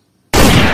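A single loud, sharp toy gun blast bursts in after a brief silence, then rings out with a broad, noisy tail.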